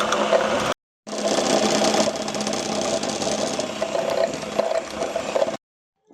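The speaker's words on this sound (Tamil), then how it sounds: "பவுட்ரு பண்ண சுகரை கொஞ்சம் கொஞ்சமாக சேர்த்து நல்லா பீட் பண்ணிக்கலாம்" An electric mixer beats eggs with powdered sugar, a steady whirring motor hum that cuts out briefly near the start, then runs on evenly before stopping.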